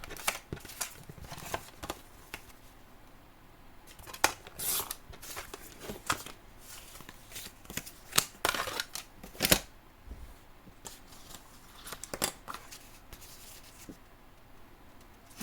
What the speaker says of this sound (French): On va découper les dernières cartes